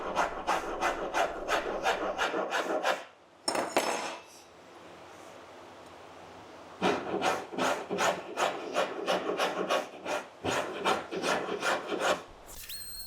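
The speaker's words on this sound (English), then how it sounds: "so I'm using a file." A hand file rasps across the curved wooden top piece of a cabinet in a woodworking shop, bursts of quick regular back-and-forth strokes separated by pauses, close and clear.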